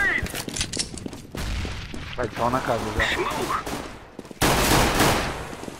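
Rapid bursts of automatic gunfire and sharp single shots crackle in a Counter-Strike: Global Offensive match, loud and close, with pauses between volleys while players talk over the action.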